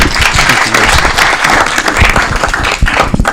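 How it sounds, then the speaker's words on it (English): Audience applause for Pastor Tammy Scott at a city council meeting: steady dense clapping held at full strength for the whole stretch, close and loud, with some voices mixed in. "Another round of applause, everyone, for Pastor Tammy Scott."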